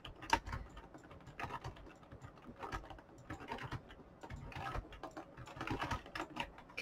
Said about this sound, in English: I press the buttons on my keyboard for it.